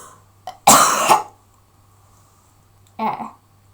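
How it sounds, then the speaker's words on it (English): A person with a dry throat coughs close by: a short catch, then a harsh double burst, and after a pause one more rasping cough. "Sorry, my throat went so dry I had to cough."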